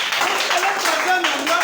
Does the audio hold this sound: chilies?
no